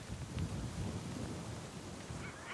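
Heavy pouring rain falls steadily on a coastal cliff, a dense, continuous wash of noise with low rumbling underneath, staying at an even level throughout with no voices.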